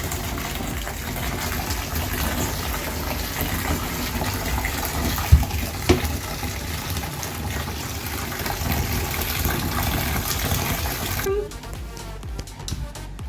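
Water gushes steadily into a tub filling up to soak a comforter, a continuous broadband rush that stops near the end, leaving quieter room sounds.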